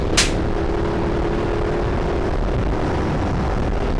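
A car with its stock exhaust drones along on the road in a steady, low, broad rumble, with one brief click near the start and no voices.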